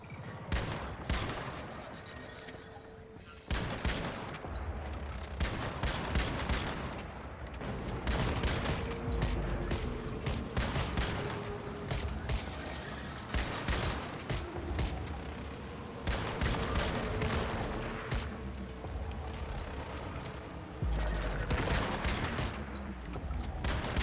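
Shotgun blasts go off in the video game Once Human as a string of loud, sharp booms at irregular intervals, each with a short ringing tail, over a steady game backdrop with no talking.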